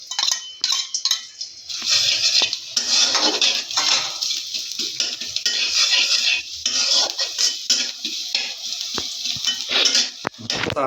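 Garlic hitting hot oil in a cooking pan gives a steady bright sizzle, close and loud, broken by clinks of a utensil against the pan.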